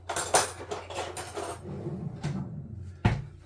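Cutlery clinks and scrapes against a plate while cutting into tinned roast potatoes cooked in an air fryer, a few close clatters ending in one sharp knock.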